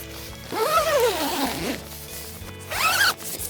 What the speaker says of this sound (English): I can zip that up.